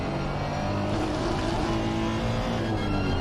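A damaged race car from a racing video game at Brands Hatch drones at steady low revs with a constant, loud engine note that holds throughout.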